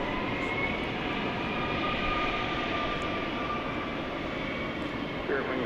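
Jet airliner in American Airlines US Airways special livery at DFW Airport after dark, a steady, fairly loud roar of engine noise holding evenly throughout.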